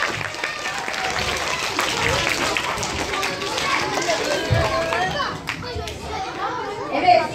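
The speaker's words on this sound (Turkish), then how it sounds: "Alkışlayalım mı?" Children in a classroom game applaud together, a dense patter of small hands mixed with lively chatter and movement, continuing steadily before thinning out near the end.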